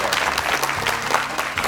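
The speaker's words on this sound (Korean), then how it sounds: "다시 한번 박수 보내드릴까요?" Brief burst of applause from a TV studio audience, many hands clapping briskly and close.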